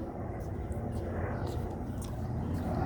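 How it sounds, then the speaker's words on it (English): A commercial airliner passes overhead, a steady broad roar filling the whole stretch at moderate level without rising or fading. "commercial airline plane."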